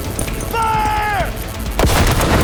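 Gunfire in Cyberpunk 2077 combat: a sharp, loud shot bursts out near the end after a sustained harmonic tone, over a dense, continuous noisy backdrop of game action.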